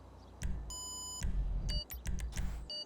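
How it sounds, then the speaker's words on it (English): Electronic countdown beeps mark a race start in GTA, each short, loud tone crisp and evenly spaced with a rumbling engine idle underneath. "4 beeps instead of 5, or 3 instead of 4, whatever it usually is"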